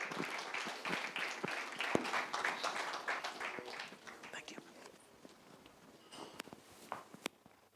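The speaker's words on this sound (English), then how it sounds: "join me with a big round of applause" Audience applause greets a speaker taking the stage at a design-industry event in Bangalore, a steady crowd clapping with scattered footsteps that thins out over the last few seconds.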